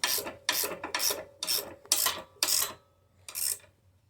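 A ratchet tightens a bolt on a Bushtec trailer hitch being fitted to a Harley-Davidson Street Glide, giving seven close, rhythmic rasping strokes about half a second apart, with a short pause before the last.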